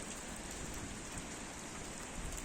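Steady rain falls outdoors at the Kyiv Pechersk Lavra, a dense, even hiss of drops on surfaces that holds at a constant level throughout with no voices.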